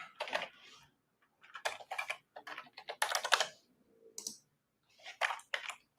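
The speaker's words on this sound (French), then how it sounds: "je tape le mot de passe que j'ai spécifié" Rapid bursts of key clicks on a computer keyboard as a password is typed, close and clear, coming in several short runs separated by brief pauses, with no talking.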